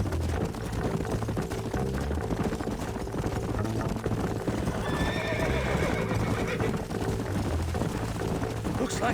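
Horses neigh and whinny over a steady clatter of hooves in the video game Red Dead Redemption, with a dense, continuous background rumble throughout; one bright whinny rises clearly midway.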